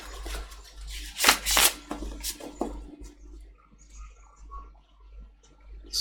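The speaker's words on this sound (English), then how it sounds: "I still feel there's a couple more shuffles." Tarot cards are shuffled by hand in a few quick, crisp riffling bursts near the start, followed by quieter rustling and handling of the deck.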